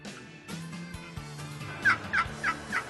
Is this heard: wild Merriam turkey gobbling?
yes